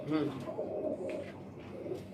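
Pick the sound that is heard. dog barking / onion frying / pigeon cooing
pigeon cooing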